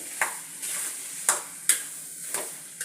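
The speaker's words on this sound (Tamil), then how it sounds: "எல்லாமே நல்லா கலந்து விட்டு ஒரு 2 நிமிஷம் வேக விட்டால் போதும்" Potato and pea samosa filling is stirred in a hot pan, with a soft steady sizzle broken by sharp spoon scrapes against the pan at irregular intervals, close up and with no talking.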